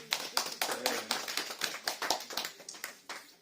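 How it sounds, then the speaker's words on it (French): A small church congregation at a Sunday service applauds with scattered, fairly quiet claps in an irregular patter, alone without talk. "je crois qu'on peut les applaudir"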